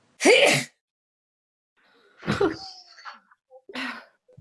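A single sharp sneeze bursts out, followed by a pause and then a couple of softer breathy sounds and murmurs.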